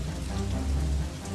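Steady rain falling on a surface, a dense continuous patter with a deep low rumble underneath, filling the short stretch evenly and heard alone without voices.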